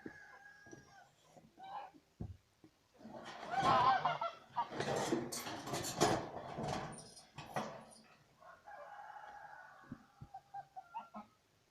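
Geese honk loudly at close range in a noisy burst, joined by other farmyard birds, with quieter calls before and after.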